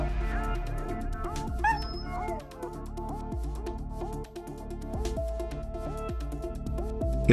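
An Estrela Mountain Dog barks and whimpers amid a busy, loud musical backing, with short yelps and whines scattered across several seconds.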